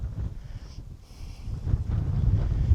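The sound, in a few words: strong wind by a body of water on the moors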